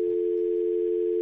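A steady telephone line tone hums from a studio phone during a radio-station broadcast, one unbroken pitch held loud and alone for the whole stretch, with no voices over it.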